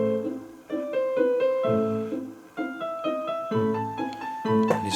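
Yamaha PSR-EW310 keyboard plays its built-in march demo song, a full band-style arrangement with a brisk, steady beat and bright melody lines, close and continuous with no talking.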